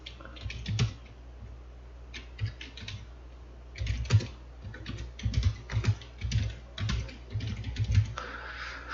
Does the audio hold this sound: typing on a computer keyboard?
yes